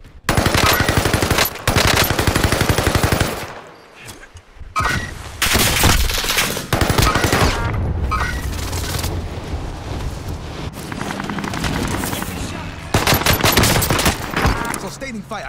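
Sustained automatic gunfire from the Call of Duty Warzone video game, loud bursts of rapid shots with brief pauses and booming impacts, nearly continuous across the scene.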